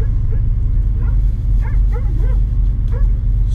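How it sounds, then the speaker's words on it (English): A neighbor's big dog barks outside on a cold morning, several short yips and woofs spread across the clip over a steady low rumble, moderately distant. "Yep, there's a neighbor's dog."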